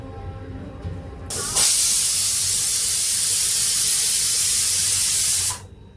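A pressure cooker lets out a loud, steady steam hiss that starts abruptly and holds for about four seconds before cutting off, close by, after a few quieter kitchen noises.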